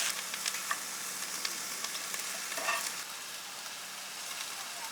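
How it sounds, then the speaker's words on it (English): Mushrooms and onions sizzle and fry in a camp pan at an RV campsite in British Columbia, a steady close crackle with scraping stirs and small pops throughout. "throw in some mushrooms and onions and some protein once that's done"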